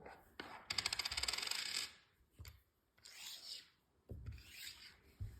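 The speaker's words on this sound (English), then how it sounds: "you put the coins behind the arcade instead of in the arcade" A pile of coins poured out behind a homemade claw arcade machine: a dense metallic clattering rush up close, then several shorter bursts of coins sliding and rattling, with faint voices in the background.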